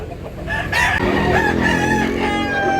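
A big rooster at a Cebu poultry market crows loudly and close, a long strained cock-a-doodle-doo over clucking fowl in the background.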